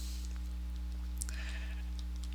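A sheep bleats once in a Minecraft FTB survival game, a short, fairly faint call over a steady low electronic hum.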